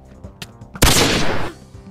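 Video game gunfire erupts in a sudden, loud, close burst of rapid shots lasting about half a second, following a few quieter clicks and thuds.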